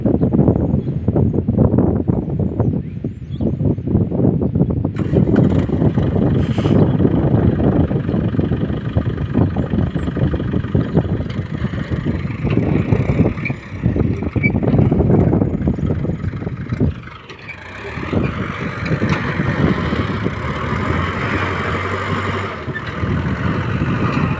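A farm tractor engine runs loud and steady throughout, a low rough rumble mixed with wind buffeting the microphone, briefly dipping near the end before it picks up again.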